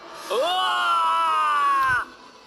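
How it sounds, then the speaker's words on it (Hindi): One long, loud scream rings out in a cartoon horror story, a sustained high wail of about a second and a half that rises sharply at the start, then cuts off abruptly. "तभी एक जोरों की चीख फिजा में गूंजी"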